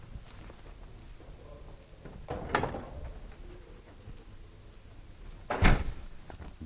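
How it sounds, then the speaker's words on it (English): An indoor door is pushed shut in a quiet room: two distinct thuds a few seconds apart, the second louder, over low room noise with no talking. "I'm going to close this door real quick."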